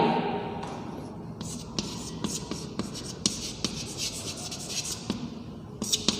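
Chalk or a marker writes on a board during a chemistry lesson, giving a run of short scratchy strokes and taps in an irregular rhythm, close and fairly quiet, with faint talk underneath.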